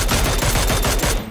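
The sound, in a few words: shotgun shot in PUBG video game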